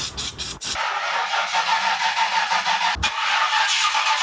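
A Honda Civic that has run out of gas cranks over and over without catching, with a steady whirring starter churning close by after a few short bursts at the start, briefly interrupted near the end.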